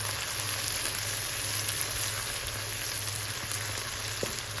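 Chopped onion frying in a little ghee for chicken biryani, a soft, constant sizzle close by with faint stirring scrapes and a couple of light taps, no talking over it.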